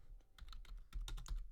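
Fingers tap on a computer keyboard in quick, irregular bursts of quiet clicky keystrokes, close but faint, with no voices.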